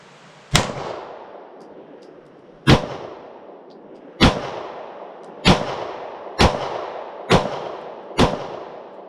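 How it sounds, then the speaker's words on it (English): Seven sharp, loud gunshots from a Mossberg MC1 SC handgun with a 7-round extended magazine, fired singly at uneven intervals of roughly one to two seconds, each with a short echoing tail. "this will be the first shots out of this handgun"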